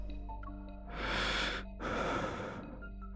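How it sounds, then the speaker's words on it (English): Zane, a character in the video game Love & Deepspace, breathes close to the ear, two long, breathy inhale-exhale swells over a quiet background, intimate and near. "He's breathing in my ear holes."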